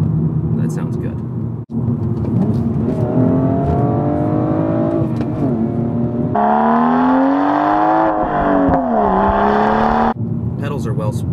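A BMW M235i's engine revs loudly and close by, the pitch climbing in long sweeps, dipping and climbing again, then dropping back, with someone talking alongside.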